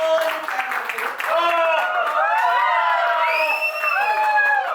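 A crowd at a lively office entertainment event cheers, whoops and claps, with bright shouting voices rising over a steady wash of applause throughout.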